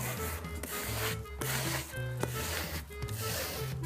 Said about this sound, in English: just take your squeegee and just give it a nice rub down